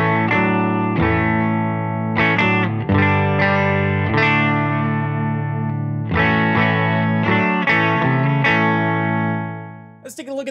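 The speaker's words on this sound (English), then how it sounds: "I'm plugged into a Benson Amps Monarch Reverb Plus." Electric guitar, a Scythe Guitars OH-19 played through a Benson Amps Monarch Reverb Plus, ringing sustained chords and riffs in several phrases, loud and clear, ending with a short noisy scrape.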